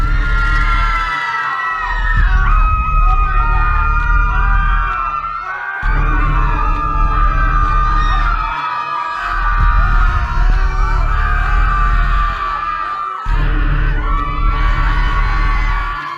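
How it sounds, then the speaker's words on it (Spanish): Children and other villagers scream and shout in a fog-covered village emptied like a ghost town, a dense crowd of cries swelling in repeated waves with brief gaps of quiet between them. "Lograban oírse algunos gritos de niños."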